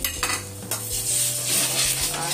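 An egg drops into hot cooking oil in a pan while vegetables are stir-fried. Close, steady sizzling runs throughout, with light scraping and stirring clinks from a utensil against the pan.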